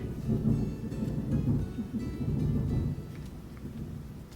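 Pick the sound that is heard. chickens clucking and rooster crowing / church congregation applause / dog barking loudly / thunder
thunder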